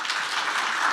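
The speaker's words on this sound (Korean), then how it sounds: "강훈식 의원님께 여러분 한 번 더 박수 부탁드리겠습니다" Audience applause at a startup seminar, a dense even wash of many hands clapping throughout, fairly loud and steady with no voices over it.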